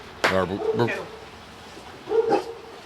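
A dog barks and whimpers near a kennel during a podcast recording, two short bursts of yelping sounds close by separated by a quiet gap.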